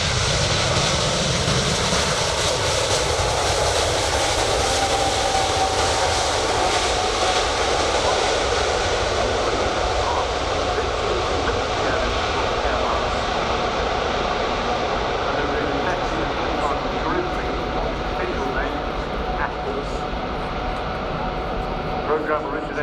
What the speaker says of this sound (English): So the 380 is touching down.